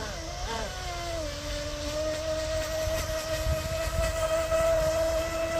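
An RC boat with a Tenshock electric motor runs laps, producing a sustained high-pitched motor whine whose pitch shifts as it accelerates and cruises, heard steadily at moderate distance.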